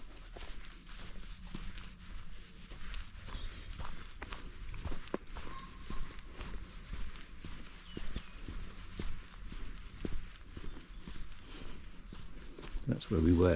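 Horses walk at Knettishall Heath in Suffolk, their hooves making faint, irregular clip-clops on the ground, heard at a distance over quiet outdoor ambience.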